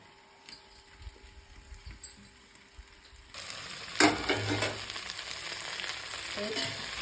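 Okra frying in oil in a pan, a quiet crackle at first that jumps to a steady, dense sizzle about halfway through, close and continuous, with a few stirring clatters and scrapes.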